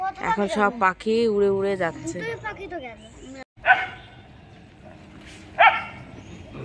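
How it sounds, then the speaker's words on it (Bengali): Dogs from neighbouring areas bark at each other, with two short, sharp barks from a distance after a person talks at the start. "ওপারের কুকুরের ঘেউ ঘেউ হচ্ছে,"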